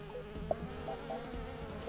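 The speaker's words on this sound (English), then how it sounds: "Bees!" A steady insect-like buzzing of bees in a video game drones on throughout, dense and close, with a small click partway through and no talking.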